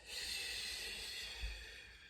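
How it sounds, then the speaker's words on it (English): A woman breathes in through the nose and out through the mouth during a postnatal Pilates class, a steady, close, airy breath sound with a soft nasal snort partway through and no talk. "we're going to breathe in through our noses and breathe out through the mouth"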